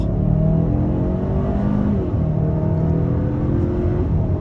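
A 2022 Kia Sorento SX with a 2.5-liter turbo engine, AWD and dual-clutch transmission accelerates in second gear: a loud, steady engine drone with rising tonal harmonics, a brief dip midway, heard from inside the cabin without talk.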